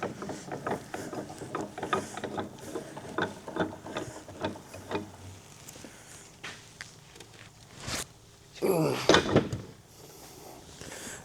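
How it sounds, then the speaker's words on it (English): An old aluminum air compressor being clamped in a metal vise, giving a series of clanks, ratcheting clicks and scrapes, then a louder rattling clatter near the end. "Let's see if we can put it in this vise"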